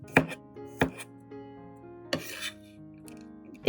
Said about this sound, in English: First, slice the garlic into thin, not too thick slices.